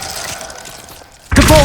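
The Glacius ice spell in Hogwarts Legacy ends in a sudden, loud, bright shatter after a quieter lead-in, with a crisp crackling burst of breaking ice.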